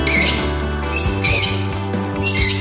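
Lovebird, a barong variety, giving loud harsh squawks in repeated bursts, close by, with a steady low hum underneath.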